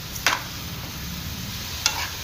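Butter garlic mushrooms fry on a low gas flame with a soft, steady sizzle, while a utensil stirring the pan makes two brief scraping strokes.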